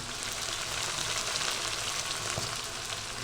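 Chicken kosha, a thick spiced Bengali curry, frying in a pan as water is added, giving a loud, steady sizzle and crackle that holds evenly throughout with no talking.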